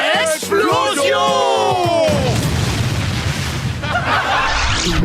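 In a SpongeBob SquarePants cartoon, an animated voice shouts, then a loud, roaring explosion effect bursts in and rumbles on as a sustained noisy wash.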